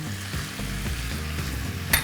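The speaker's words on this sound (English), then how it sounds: "I'm giving everything a good mix." Vegetables with ginger and garlic sizzle and fry in a pot for pumpkin soup while being stirred, a low scraping rustle with soft shuffles and a brief metallic clink near the end.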